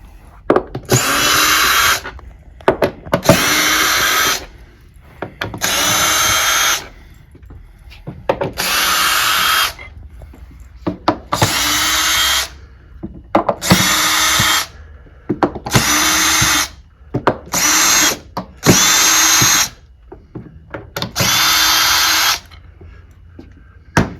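A power drill backs screws out of the wooden strips on a table in a series of about ten loud whirring bursts, each one to two seconds long, separated by brief pauses.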